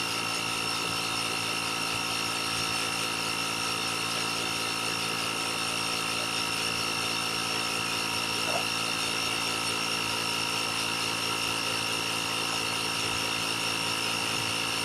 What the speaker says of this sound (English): Takes a little bit with this little air compressor, but it works.